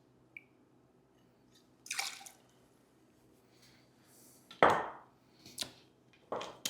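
Vodka is poured at close range to mix a double batch of party shots. Several short, separate splashy liquid bursts break a quiet background, and no one speaks.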